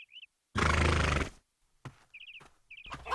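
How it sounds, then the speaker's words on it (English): A cartoon horse neighs and whinnies in a loud, shaky burst, followed by snorts and short squeaky sound effects in a children's animated show. "Look here, horse. No messing about."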